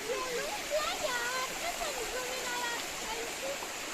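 A mountain river in the Pyrenees rushes steadily in a constant close wash of flowing water, with people talking faintly over it.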